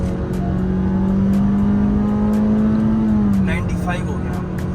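A tuned Gen 5 Honda City RS pulls hard in second gear, its engine drone climbing steadily in pitch from inside the cabin before easing off, with voices talking over the loud, continuous sound.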